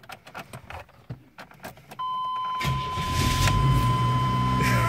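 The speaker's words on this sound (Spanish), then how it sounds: "vamos a ver cómo prender una camioneta sin la llave" An old pickup truck is started without a key: a few faint clicks and rattles, then the engine catches abruptly and settles into a loud, steady idle with a whining tone throughout.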